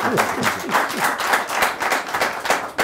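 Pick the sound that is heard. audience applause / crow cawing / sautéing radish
audience applause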